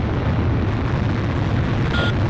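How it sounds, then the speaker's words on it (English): Continuous deep rumbling of bombing explosions over a burning city in the Ace Combat Zero flight game, a dense, loud, sustained roar with no distinct separate blasts. "That must mean the bombing started."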